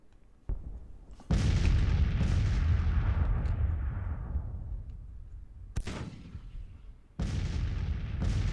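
Cannon fire in a Civil War strategy game, Grand Tactician, booms in deep, rumbling blasts: several heavy reports with long rolling decays, one sharp crack midway, and another round near the end. No voices.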